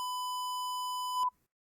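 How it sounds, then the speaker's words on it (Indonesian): An IoT temperature sensor demo board's buzzer sounds one steady, clear electronic beep lasting just over a second, then cuts off into near silence. "Nah, ini buzzer langsung nyala."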